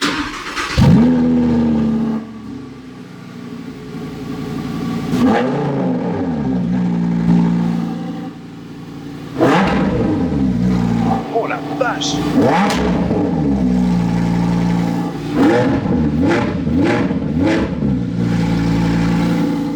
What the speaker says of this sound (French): C'est un V10 Atmo. Vu le démarreur, c'est pas chez Audi, c'est chez Lambo. Donc c'est une Huracan